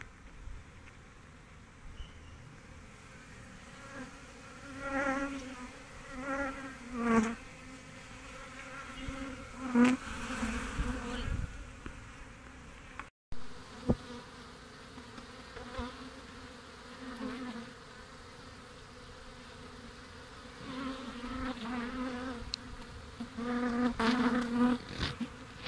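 Bees drone and buzz steadily nearby, their hum rising and falling in intensity, with a brief click partway through.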